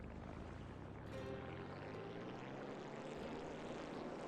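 Seaplane engine in a video game idling up slightly on the bay, a faint steady propeller drone with a gentle rise in pitch, water wash underneath.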